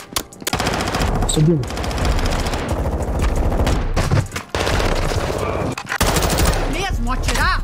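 Rapid automatic gunfire rattles in Call of Duty Warzone 2.0, loud bursts stacked over one another with brief gaps, while a player speaks briefly over the shooting.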